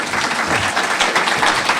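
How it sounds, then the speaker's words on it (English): Audience at a debate between state representative candidates claps loudly and steadily, a dense, close burst of applause with no voices over it. "How about a nice round of applause for both of them?"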